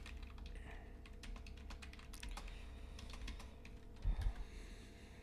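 Computer keyboard typing, a steady patter of clicks over a low hum, with a louder thump near the end.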